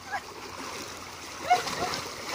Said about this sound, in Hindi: चल बल्लू बल्लू कूदो बल्लू